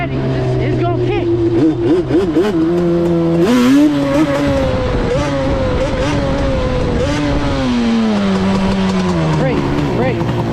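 A Yamaha Banshee ATV engine revs loud and close throughout, its pitch rising and falling in surges as the quad is lifted into a wheelie, with a voice faintly talking beneath it.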